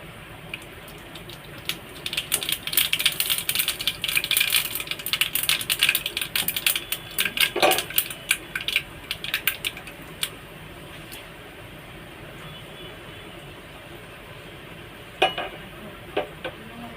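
Mustard seeds and asafoetida dropped into hot oil for tempering give a dense crackling sizzle with quick pops. It flares loudly for several seconds, fades to a steady hiss, and ends in a few late sharp crackles.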